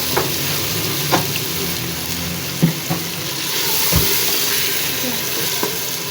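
About a cup of oil sizzles steadily in a pan of peas and meat curry, a constant hiss broken by a few sharp pops and clinks of a spoon against the pot.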